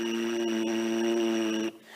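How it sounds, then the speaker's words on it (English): A brass player buzzes lips alone in the low register of a low brass warm-up, holding one steady, rich tone for about a second and a half before it cuts off abruptly. "we might actually get a lower buzz naturally"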